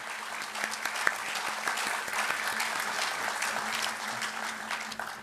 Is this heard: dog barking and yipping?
no